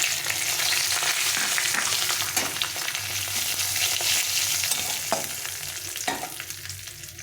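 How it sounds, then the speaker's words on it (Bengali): Bay leaves, cardamom, cinnamon and cumin fry in hot oil as a continuous bright sizzle, with occasional stirring knocks against the pan that fade slightly toward the end. "তেজপাতা দুটো এলাচ দারচিনি আর জিরে এটা আমি দিয়ে দেব তেলটা গরম হয়ে গেছে ওই ফোড়নে এটা দিয়ে দেবো"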